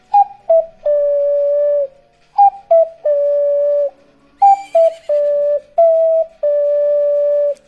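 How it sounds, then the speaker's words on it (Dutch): Ocarina melody from The Legend of Zelda: Ocarina of Time, a series of clear, pure whistling tones in short phrases of quick notes followed by long held notes, bright and alone in the foreground. "Kom er maar in met je ocarina en fluit maar raak"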